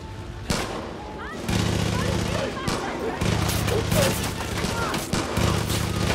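Rapid bursts of Far Cry 5 gunfire crackle throughout, with sharp repeated shots over a steady background hum and faint voices.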